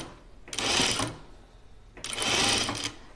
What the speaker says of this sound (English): So I'm going to sew it a 1/4 inch seam.